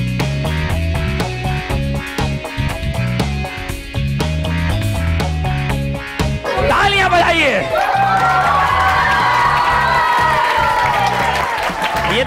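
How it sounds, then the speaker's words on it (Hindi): On a school quiz show at Oxford English Public School, loud music gives way to a burst of audience cheering, whooping and applause, with shouts and crowd chatter mixed in through the second half. "तालियां इसलिए बजवाई हैं तुम लोग हार गए"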